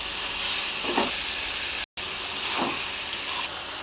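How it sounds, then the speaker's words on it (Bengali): Broiler chicken meat frying with spices, ginger-garlic paste and tomato hisses in a steady, close sizzle, with two brief stirring bursts and a momentary cut in the middle. "এবার দিয়ে দেবো মাংস।"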